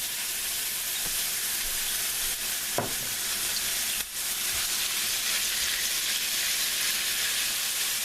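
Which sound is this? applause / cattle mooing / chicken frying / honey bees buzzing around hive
chicken frying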